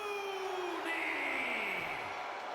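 Game crowd in WWE 2K25 cheering and yelling through wrestler entrances, a steady wash of noise with a whoop rising and falling, no voices speaking over it.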